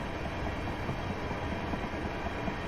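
A Class 375 electric multiple unit accelerates on rails in Train Simulator 2018, giving a steady, dense rumble and rolling rail noise that holds even and fairly loud throughout, with no voices.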